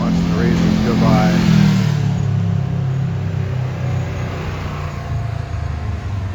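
Race cars pass on a road in Moab, Utah, their engines loud and close as they rev and sweep by in one continuous roar, with a voice talking over them.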